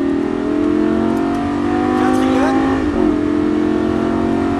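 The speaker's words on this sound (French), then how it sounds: "On garde de la vitesse, on prend un filet de gaz pour l'instant et on accélère." A car engine pulls under light throttle and then accelerates at a stunt-driving event, its steady hum rising in pitch and easing off briefly near the end; a voice is heard faintly.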